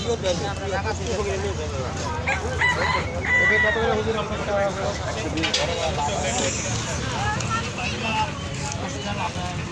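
A rooster crows amid the bustle of a busy market selling local chickens and ducks, mixed with clucking fowl and steady crowd chatter that runs throughout.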